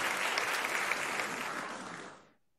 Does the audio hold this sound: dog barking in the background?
no